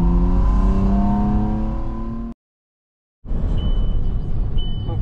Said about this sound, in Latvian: Viņš baigi lēnu ceļ tos apgriezienus.